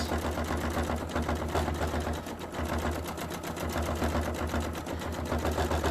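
A sewing machine stitches steadily along raw edge appliqué fabric, its rapid mechanical whir running continuously and fairly loud, with a low motor hum underneath and no voices.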